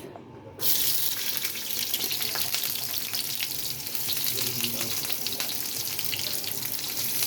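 Onion hits a hot pan for sardines cooked with egg, ginger and garlic, a loud, dense hissing sizzle that starts suddenly and holds steady and close to the end.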